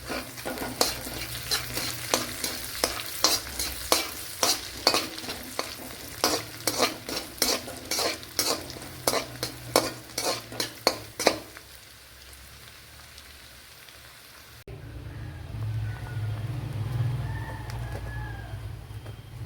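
Curry leaves dropped into hot oil for an egg curry, with a steady close sizzle and repeated scraping stirs for about twelve seconds, then a quieter, softer bubbling fry.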